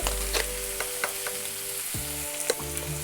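Ginger-garlic paste and spices fry in a pan with a constant sizzle, broken by occasional light scrapes of a stirring spoon. A low electric hum from the stove or a fan runs underneath.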